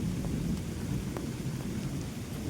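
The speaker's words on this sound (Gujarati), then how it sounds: "જો હરુડા ગડગડ ગડગડ થાય" Thunder rumbles steadily through a heavy unseasonal rainstorm, a low continuous roll under constant rain noise, fairly loud and without voices.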